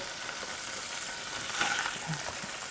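Red onions and tomatoes sizzle steadily in a pan of butter with marinade and sauce, a dense, continuous frying hiss held close and loud throughout, with no talking.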